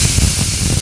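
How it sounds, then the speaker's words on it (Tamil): Okra sautéing in a pan for a vadakkal dish, a loud, dense, continuous sizzle and hiss that stops abruptly at the end. "வெண்டைக்காய் வதக்கலுக்கு வெண்டைக்காய் வதங்கிட்டு இருக்குது"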